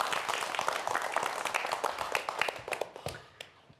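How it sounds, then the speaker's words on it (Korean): A television studio audience claps steadily for a few seconds to welcome a professor's lecture on earthquakes and volcanoes. The applause is moderately loud, fading slightly toward the end. "박수 부탁드릴게요"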